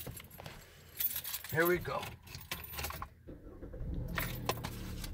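Car keys jangle in a quick metallic rattle up close, mixed with casual talk and a faint engine hum in the background.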